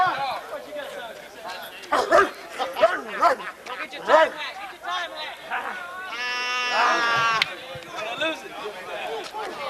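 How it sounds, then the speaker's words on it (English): A dog barks in short, repeated bursts amid several people talking close by, with a brief high yelp partway through. "Let me hear you bark, boy."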